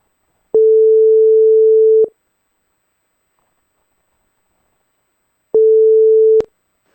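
Outgoing telephone call ringing on the line: two loud, steady single-pitch ringback tones, the first about a second and a half long and the second shorter, separated by several seconds of silence, with no voices.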